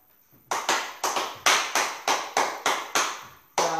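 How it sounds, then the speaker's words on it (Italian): A group claps hands in unison during a live fitness class, about nine sharp claps at a steady beat, close and loud, with a brief pause before the last pair. "Applaudiamo, vai, che così mettiamo un po' di musica"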